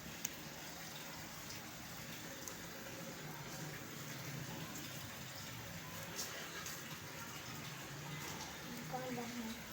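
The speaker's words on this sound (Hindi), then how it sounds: "देखें ये पानी बॉयल हो गया।" Water boiling in a cooking pot for kofta curry: a faint, steady bubbling and gurgling hiss that holds evenly throughout, quiet and unbroken.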